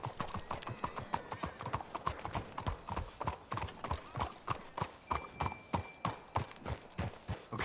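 Horses in Red Dead Redemption II walk along with a steady clip-clop of hooves, a close rhythmic rapid clatter running throughout, with a soft snort or whinny and faint voices in the background.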